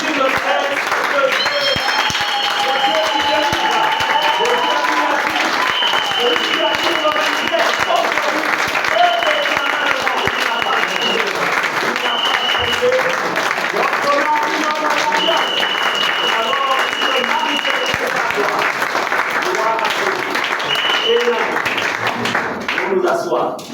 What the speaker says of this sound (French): Est-ce qu'on peut se lever et acclamer encore ce Jésus?